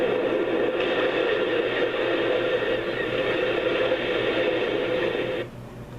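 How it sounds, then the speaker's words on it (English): Steady broadband wash of ocean surf from a white noise sleep machine, loud and constant with a faint rhythmic swell, cutting off abruptly near the end. "Ocean."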